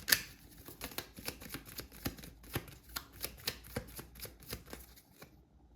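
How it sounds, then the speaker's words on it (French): Tarot cards are drawn and handled at close range, giving a quick run of soft rhythmic slaps and flicks that stops abruptly. "Je vais tirer une ou deux cartes."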